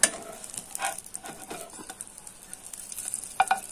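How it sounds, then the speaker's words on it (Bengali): Bread slices soaked in milk and egg fry in a pan, giving a soft, low sizzle with scattered stirring and scraping clicks, a few brighter taps near the end, and no voices. "এভাবে ঘুরিয়ে ঘুরিয়ে প্রত্যেকটা সাইড ভেজে নিতে হবে"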